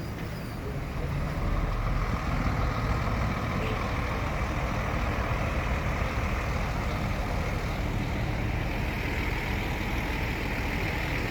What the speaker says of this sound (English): once I fight the rush hour traffic here